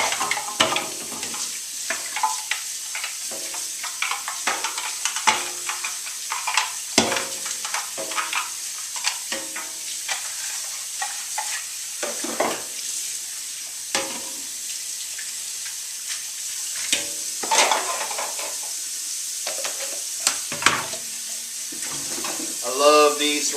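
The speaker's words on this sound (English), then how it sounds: "rinse as you're going around the outside edge. And then a couple times around the inside." Juicer parts are rinsed under running kitchen tap water, giving a steady close hiss of flowing water broken by clattering and splashing as the pieces are turned.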